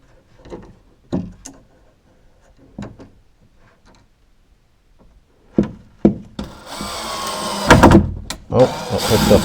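A power drill bores into wood in a few loud, close bursts during the last few seconds, after a quiet stretch with scattered short knocks and faint handling sounds.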